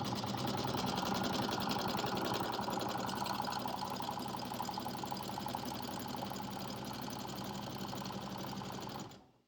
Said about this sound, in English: Sewing over all those thicknesses was difficult